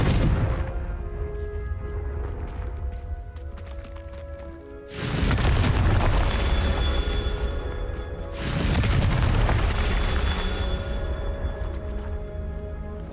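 Confringo spell explosions in the Hogwarts Legacy video game land as three heavy, booming blasts, each trailing off into a long roaring decay.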